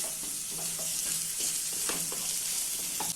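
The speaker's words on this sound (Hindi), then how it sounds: "मसालों को मीडियम फ्लेम पे अच्छे से मिक्स कर लेना है।" Spices fry and sizzle in a pan over a medium flame, a constant bright hiss overlaid with intermittent scraping strokes of a spoon stirring them, close and steady throughout.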